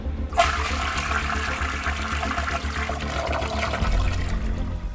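A toilet flushes with a loud rush of water that keeps gushing for several seconds, then shifts to a lower gurgle as the bowl refills.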